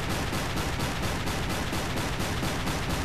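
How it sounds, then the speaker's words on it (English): Gunfire from an enemy ship in the naval game Silent Hunter 3, a steady rapid stream of loud shots repeating evenly throughout, dense and unbroken. "And he's shooting at us."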